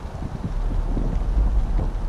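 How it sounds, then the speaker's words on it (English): Wind blowing outdoors, a steady low rumbling gust against the microphone with no voices, lasting a couple of seconds. "The wind's kicking up"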